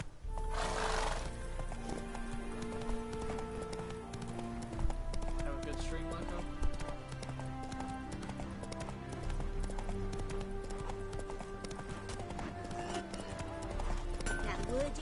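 Roach the horse gallops through trees in The Witcher 3, a steady rapid clip-clop of hooves with a brief whinny, set under continuous game music and a voice talking over it.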